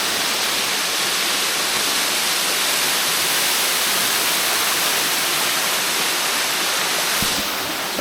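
A waterfall at Middle Black Clough rushes in a steady, loud, broadband roar, constant and close for the whole stretch with no talk over it.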